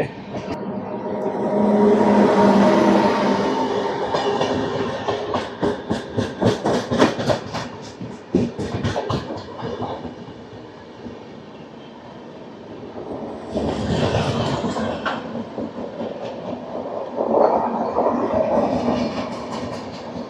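The Visakhapatnam–Secunderabad Garib Rath express passes Moula Ali without stopping, a loud rushing roar with rapid clickety-clack of wheels over rail joints that fades, then swells again before easing off.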